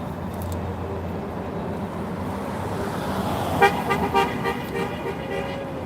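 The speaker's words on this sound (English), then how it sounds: "They're not supposed to honk at us." A car horn gives a few short toots over steady road traffic noise at a street protest outside an immigration facility in Portland, Oregon.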